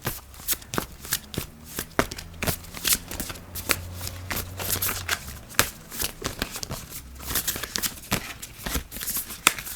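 Tarot cards shuffled by hand in quick, irregular riffling bursts and soft slaps, close up and fairly loud, continuing throughout with only faint background hum.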